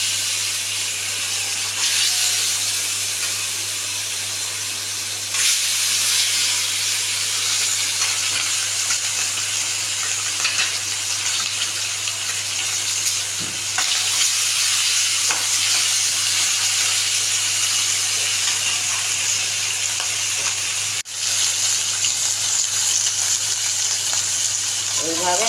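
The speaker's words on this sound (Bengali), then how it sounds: "এবার এই মাছ আমি কড়াই দিলাম" Hilsa fish frying in oil in a kadai, giving a steady, close sizzling hiss that carries on without a break and stays even in loudness throughout.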